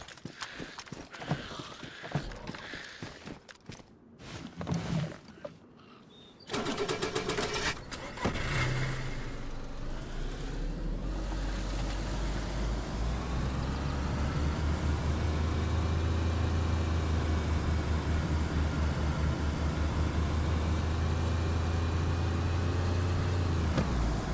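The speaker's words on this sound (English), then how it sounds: "This car actually drives good enough." A car in the video game DayZ, first clattering knocks and rattles, then an engine settling into a loud, steady droning run for the rest of the stretch.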